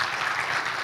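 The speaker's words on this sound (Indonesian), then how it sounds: "Boleh minta tepuk tangannya Bapak sekalian?" Dense applause from an audience at an Indonesian Tribun Academy event on digital literacy held with the army, a steady wash of clapping for under a second with no talk over it.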